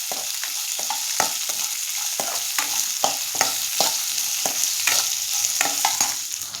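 Garlic, ginger and Byadagi chillies fry in a pan, a steady bright sizzle broken by repeated scraping stirs at a quick, irregular rhythm, close and clear with no talking.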